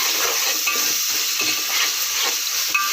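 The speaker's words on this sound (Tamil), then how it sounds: "இதையும் நல்லா எண்ணெயிலே வதக்கிடணும்" Mint and coriander leaves are sautéed in oil for basmati chicken biryani, giving a close, continuous sizzle with brisk stirring and light spoon scrapes against the pot, no speech.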